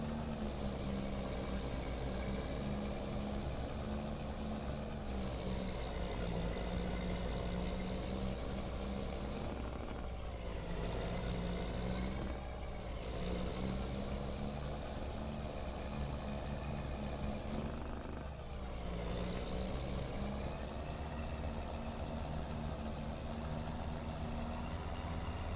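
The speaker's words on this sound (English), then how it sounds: "Man, that truck is really loud." A loud, steady logging truck engine in Farming Simulator 25 drones continuously with a deep rumble, briefly dipping a few times before resuming at full volume.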